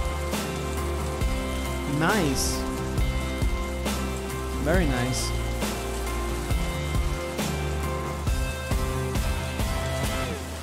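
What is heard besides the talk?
rain falling in a music video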